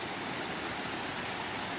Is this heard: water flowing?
yes